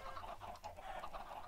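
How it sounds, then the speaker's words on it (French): Chickens clucking in the Minecraft video game, a dense overlapping cluster of short clucks from several birds, steady and close, with no speech. "Il y a pas mal de poulets qui pondent."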